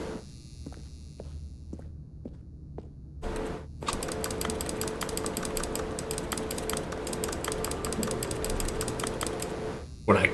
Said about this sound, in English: Why does it sound like I'm typing on a keyboard?